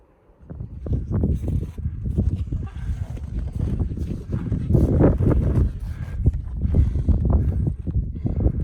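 Gusty wind buffets the microphone on a snowbound mountain pass on the Annapurna Circuit, near Thorong La, with loud irregular rumbling bursts throughout and no speech.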